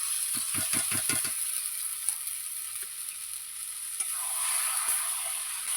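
Mutton sizzles in a pan with onion, ginger and garlic, a steady hiss with a few early clattering stirs or scrapes, moderately loud and without speech.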